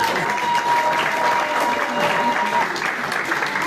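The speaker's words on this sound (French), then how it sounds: "Veuillez acclamer notre ami Julio" Audience applauding for Julio at a consecration ceremony marking an association's 15th anniversary, steady dense clapping that fills the whole moment without pause.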